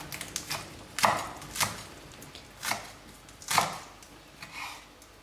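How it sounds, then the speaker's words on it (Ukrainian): A knife chops fresh sorrel and green onions on a board for green borscht, with five or six crisp, separate cuts spaced unevenly and heard up close. "Нарізаємо зелень. У мене в даному випадку щавель і зелена цибулька."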